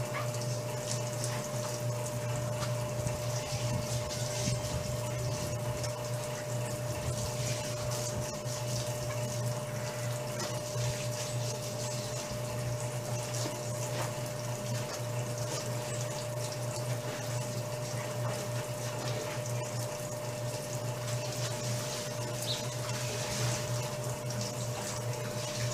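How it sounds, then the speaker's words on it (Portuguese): A tap runs steadily in a house with weak water flow, producing an unbroken, even hiss of running water with a faint background hum and no talking. "Torneirinha aqui quase não sai água, só a outra que sai."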